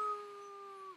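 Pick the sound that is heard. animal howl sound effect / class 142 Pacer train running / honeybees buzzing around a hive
animal howl sound effect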